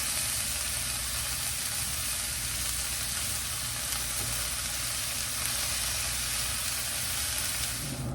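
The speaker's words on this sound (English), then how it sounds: "We're just wanting these to saute and cook down just a little bit." Peppers sautéing on a Blackstone griddle make a loud, constant sizzling hiss close up, steady throughout with faint stirring and no talk.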